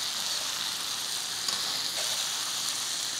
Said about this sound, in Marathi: ह्याच्यामध्ये आपण ही वांगी ढबू मिरची आणि भोपळा हे घालू आणि हे पण ह्याच्यामध्ये छान परतून घेऊ.